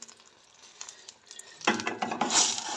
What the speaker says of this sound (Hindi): इसमें हम 1 किलो कीमा डालेंगे